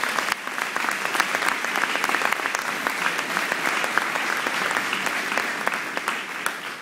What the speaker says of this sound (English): Oh, they can get a round of applause, too.